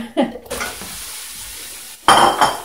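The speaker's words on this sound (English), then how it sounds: "Throwing in my celery, my beets." Celery and beets are tossed into a stew pot: a quick clatter and splash, then a soft, steady simmering hiss before a second louder rattle of vegetables hitting the pot.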